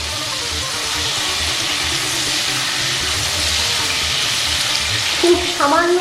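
Prawns drop into hot oil in a pan for Bengali echor chingri, a steady broadband sizzle of frying that holds throughout, with a brief clink near the end.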